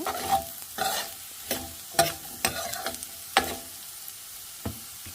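Taco filling frying in a pan, with a low sizzle under a series of sharp spatula scrapes and taps that come quickly at first, then thin out to a last lone knock, close by and without any talking.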